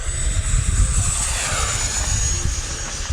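A beginner RC model F-16 jet flies nearby with a steady, loud whining roar and a high-pitched hiss that holds constant throughout, with no talking.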